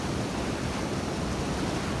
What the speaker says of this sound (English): Down from the bridge, the waterfalls are raging, and there is ice all around and on top of them.